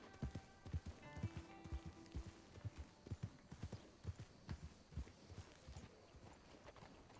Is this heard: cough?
no